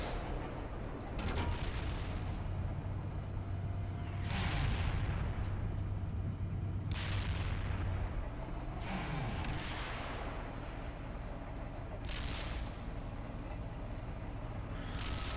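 Gunfire and artillery from a Steel Beasts tank simulator game boom in about six sharp blasts spread across the span, each with a rumbling tail, over a steady low engine drone.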